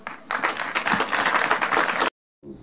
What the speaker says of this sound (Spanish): Pido un fuertísimo aplauso para ellos.